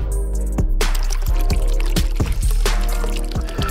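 Compost tea water is poured onto cannabis plants in a grow setup, a steady close pour with repeated splashing drips at a regular rhythm and no talking.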